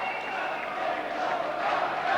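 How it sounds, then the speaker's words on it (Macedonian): An arena crowd at a 1992 international friendly wrestling match between Macedonia and Russia in Skopje cheers and applauds after a Macedonian victory, a broad swelling roar that grows slightly louder toward the end. "Честитки, аплаузи"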